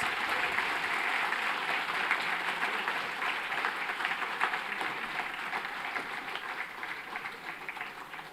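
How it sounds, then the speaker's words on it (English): Audience applause at a university convocation ceremony in a large hall, a steady crowd of hands clapping at moderate level that gradually thins toward the end. "So please give another round of applause for all of our BTech awardees."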